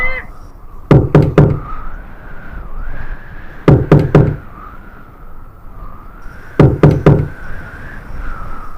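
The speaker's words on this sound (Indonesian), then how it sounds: "Kembali suara ketukan terdengar di pintu kamar Rahmat." Knocking on a hospital room door at night: three sharp bursts of three or four loud, close raps, separated by pauses and set over a low wavering siren-like drone.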